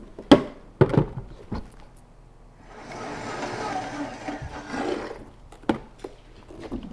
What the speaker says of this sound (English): So we're going to blend this together until you can't really see the date chunks anymore.